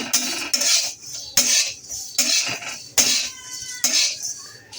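Masala sooji is stirred while frying in a pan for carp bait, a loud metal spatula scraping and clanking against the pan in repeated strokes with short gaps between them.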